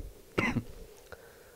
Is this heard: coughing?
yes